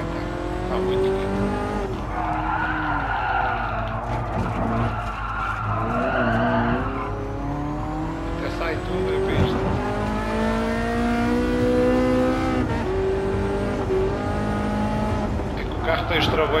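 Ferrari F40 engine roar with shifting pitch and tire squeals in the racing game GT Sport, with music-like tonal layers running throughout.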